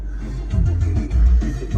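A convertible car's power top folding down: a steady, close low motor hum broken by a few soft mechanical thumps as the roof retracts.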